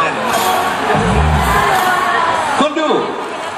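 A concert crowd at Siam Paragon cheers and shouts in a loud, continuous swell, with whoops and a voice calling out over the noise.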